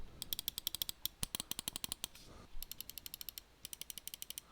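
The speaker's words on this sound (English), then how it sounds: "This kind of feels like default mouse switch. I'll do a quick sound test of both real quick." Crisp, rapid clicks from the switches of a Pulsar X2 Boardzy Edition gaming mouse come in quick bursts of evenly spaced presses, close and fairly quiet.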